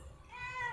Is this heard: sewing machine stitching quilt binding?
no